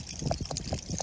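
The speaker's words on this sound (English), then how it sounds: "Very bad, high flowing leak." Water seeps and trickles from a badly leaking concrete water tank on a sheep farm in Wangaratta, Victoria, giving quiet, close drips and splashes in an irregular patter with no talk.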